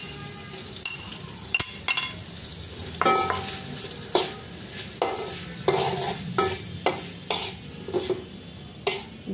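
Vegetables and shrimp with baby corn, capsicum, chilli, boiled carrot and long beans being stirred in a frying pan, with a steady close sizzle and repeated rhythmic scraping strokes of the utensil against the pan.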